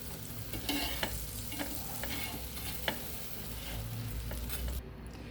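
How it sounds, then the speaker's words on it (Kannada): Bread roasting in butter in a pan for a carrot sandwich, a soft steady sizzle with occasional scraping and tapping from a spatula against the pan. "ಬೆಣ್ಣೆ ಹಾಕಿ ಸ್ವಲ್ಪ ರೋಸ್ಟ್ ಮಾಡ್ಕೋಬೇಕು ಬ್ರೆಡ್ನ ಲೈಟಾಗಿ ಕ್ರೋಶ್ ಮಾಡ್ಕೋಬೇಕು"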